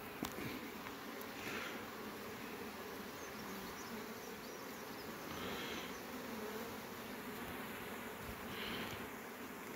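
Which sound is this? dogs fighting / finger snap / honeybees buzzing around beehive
honeybees buzzing around beehive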